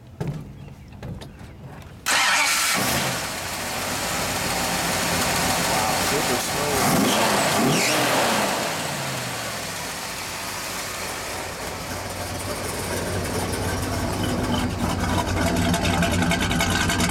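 After a quiet start, a 1970 Dodge Coronet 500's 383 engine suddenly fires up loudly, revs briefly, then settles into a deep steady idle while someone talks.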